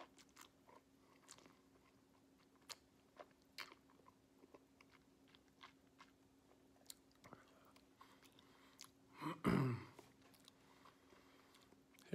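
A mouthful of Linkwood 2008 single malt Scotch whisky is worked around the mouth: faint, close, wet clicks and smacks tick sparsely over a quiet hum, with one louder squelching burst near the end.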